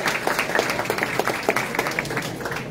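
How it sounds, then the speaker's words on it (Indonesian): A crowd of young people at an Indonesian presidential candidate's public Q&A event bursts into dense, steady applause, many hands clapping together at moderate loudness for a few seconds. "Boleh tepuk tangan yang lagi skripsian."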